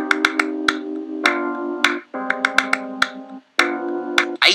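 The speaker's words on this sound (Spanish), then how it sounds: "con un piano eléctrico que hace esto" Electric piano from a song plays held, buzzy chords that shift every second or so, while sharp flamenco hand claps cut through in an uneven rhythm; no voices.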